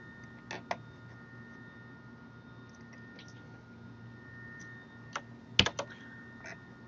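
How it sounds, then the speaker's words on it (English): Computer keyboard typing at a workstation during software setup, sparse individual keystrokes with a small cluster of quick clicks, soft against a steady background hum. "So if I have to do a lot of typing,"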